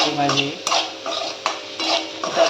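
Onions being sautéed in a pan and stirred with a spoon: a series of scraping, clinking stirs against the metal, with only a faint sizzle underneath, close and fairly quiet.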